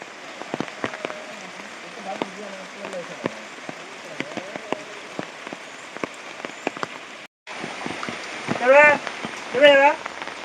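Heavy rain pours steadily onto surfaces, a dense crackle of drops throughout, broken by one short cut near the end, after which people talk over the downpour.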